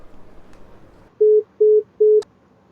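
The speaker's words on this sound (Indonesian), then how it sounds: "Udah telepon dengan Dodo" A telephone call ends with three short, identical electronic beeps in a steady rhythm, clear and close after a quiet moment.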